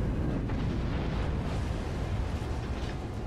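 Warship main guns fire in World of Warships, a heavy rumbling boom rolling through the opening seconds amid a constant low roar of naval battle.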